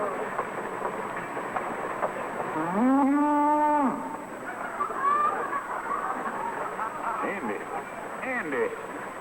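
A single drawn-out cow moo in an old-time radio comedy sound effect of cattle being loaded onto a train, faint and boxy with voices talking around it.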